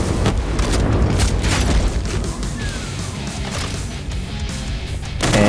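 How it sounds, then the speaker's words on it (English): Barrels explode in a Doom game with Project Brutality in the Plutonia Experiment, giving dense booming blasts and crashes that fill the clip, loud and heavily layered with game sounds. "Blow up the barrels first."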